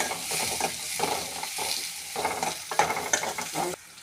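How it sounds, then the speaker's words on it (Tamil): Onions sizzle in a pan with cinnamon and cloves, and steady spatula stirring adds rhythmic scrapes and taps over a constant close hiss. "வெங்காயம் நல்லா வதங்கினதும் தக்காளி போடலாம்"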